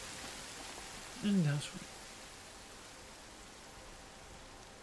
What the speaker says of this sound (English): Oh, why wouldn't it be raining?